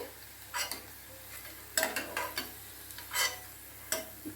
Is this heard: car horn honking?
no